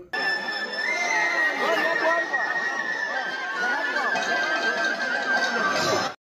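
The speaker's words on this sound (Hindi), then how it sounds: "तो गाइस देख सकते हैं बहुत ही भीड़ हुआ है यहाँ पर।" Large dense crowd gathered at a Naam Kirtan in Katlicherra, a constant loud hubbub of overlapping chatter and shouting voices with a steady tonal drone running beneath, cutting off abruptly at the end.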